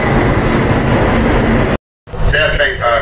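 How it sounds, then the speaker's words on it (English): Interior of a moving passenger train: a loud, steady rumble and roar of the carriage. It cuts out briefly, then returns more quietly with tonal announcement-like sounds over the running noise. "on the train heading back to where I'm supposed to be."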